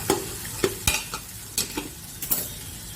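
Vegetables coated in masala are stirred in a pan over a low frying hiss, with sharp scraping strokes landing every half second or so, close by and with no talking.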